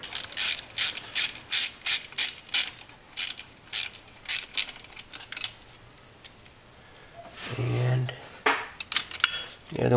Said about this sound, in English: now 10 millimeter socket. Remove the three bolts that are holding on the bracket